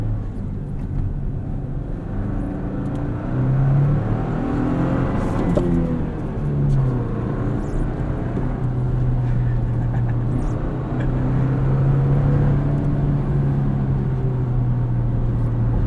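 A 2024 Toyota Tacoma pickup with a 6-speed manual drones steadily from inside the cabin on back roads, pitch rising and falling as it accelerates and shifts, with road rumble underneath; loud and continuous.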